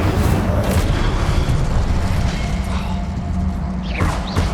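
Incendio, a fire spell, cast in Hogwarts Legacy on PS5, with a loud sustained booming, rushing burst that ends in a brief swooshing flourish. No one speaks.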